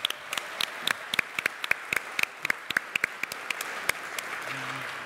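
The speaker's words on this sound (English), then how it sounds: "We got applause." Applause from an audience at a helicopter owners' meetup event, moderately sized crowd clapping with distinct sharp individual claps spread irregularly across the stretch, steady and fairly close, with no talk.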